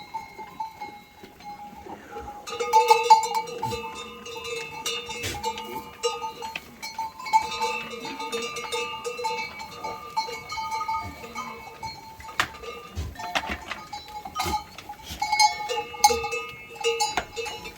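Goats bleat repeatedly over a steady clanking of cowbells, with hooves and rustling nearby; several animals call at once, fairly close.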